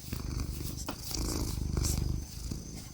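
A cat purrs steadily and close by, a continuous low rumbling purr with a slight rhythmic pulse, heard on its own without talk.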